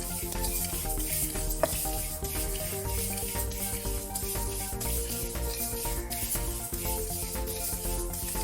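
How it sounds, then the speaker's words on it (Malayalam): Palm jaggery melting in a pan, a steady hiss of sizzling with soft stirring scrapes running throughout, close and even. "ഈ കരിപ്പട്ടി ഒന്ന് ഉരുക്കിയെടുക്കണം."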